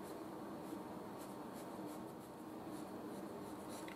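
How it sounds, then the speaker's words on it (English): Pencil lead shading with its side across sketchbook paper, a soft continuous scratchy rubbing that stays faint and steady throughout, with no talking. "I can come in with side of the pencil"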